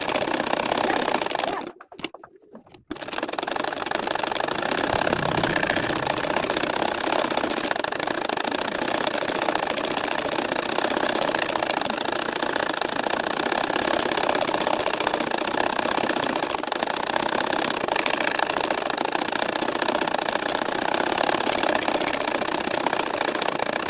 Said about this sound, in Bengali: দেখো আমি সেলাই করে যাচ্ছি